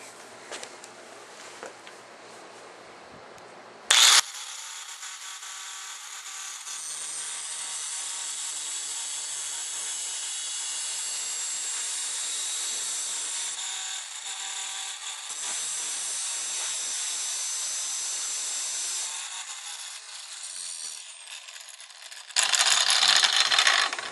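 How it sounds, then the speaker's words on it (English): A 4-inch angle grinder cuts through the steel front sight of an AR15, a sudden whine starting about four seconds in and holding a steady high grinding tone for most of the clip, with a louder burst near the end. "Just use a 4-inch angle grinder here."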